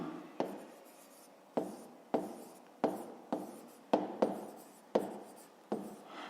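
A pen scratches across paper while a maths exercise is written out, making about ten distinct strokes in an uneven rhythm, close and fairly clear.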